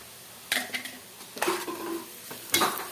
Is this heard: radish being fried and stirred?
yes